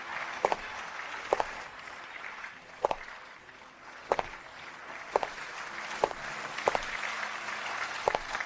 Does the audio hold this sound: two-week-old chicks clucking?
no